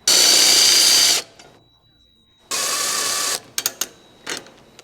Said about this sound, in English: using the 21mm wrench again, along with the 21mm socket and extension bar on the impact, we're going to remove the right track bar bolt